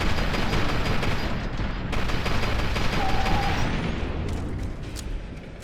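Assault rifle and shotgun fire in the shooter F.E.A.R. 2: Project Origin, loud continuous overlapping gunfire with dense, heavy reports filling the whole stretch.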